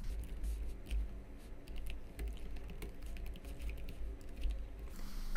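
An email address and password are typed on a computer keyboard to log into a website. Soft, irregular key clicks come in short runs with brief pauses, quiet and close, with no talking.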